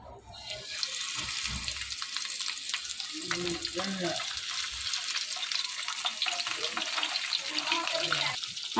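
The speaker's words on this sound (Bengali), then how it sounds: "তো এখন আমি একটা একটা করে তেলের মধ্যে দিয়ে দিব" Marinated tengra fish pieces go one by one into hot oil on a weak, low gas flame, giving a continuous watery hiss and sizzle with a person talking over it.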